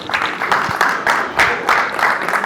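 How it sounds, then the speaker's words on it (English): A comedy show audience in Zambia claps in uneven waves, the bursts swelling and fading every half second or so amid a busy room. "clap for yourself"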